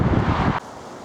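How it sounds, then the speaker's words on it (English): Strong wind gusting across an open bridleway in the countryside, a loud roaring buffet against the microphone that drops away abruptly partway through, leaving a quieter rustling hush. "Wind is definitely picking up."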